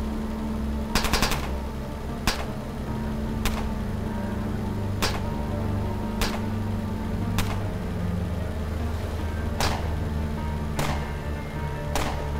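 Shotgun blasts in the turn-based game Underrail: about a dozen sharp, evenly spaced reports, mostly single with one quick double, sound over a steady low droning hum.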